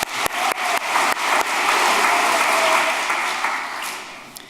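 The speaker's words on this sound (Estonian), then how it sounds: "Ma paluksin aplausi kõikidele tänastele lõpetajatele." Graduates at an IT College graduation ceremony receive audience applause: a few scattered, sharp claps quickly swell into full, steady clapping from the crowd, then taper off slightly.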